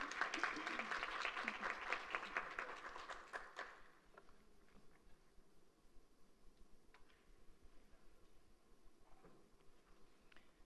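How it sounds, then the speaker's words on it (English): An audience applauds at a Virginia Union University gathering, a dense burst of clapping for the first few seconds that then fades out, leaving a quiet room with scattered faint taps. "Let's give her a round of applause."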